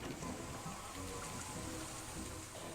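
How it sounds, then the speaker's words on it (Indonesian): Steady rain hisses and patters on surfaces, a constant even wash of drops at low level with no voices. "hujan pun mulai turun"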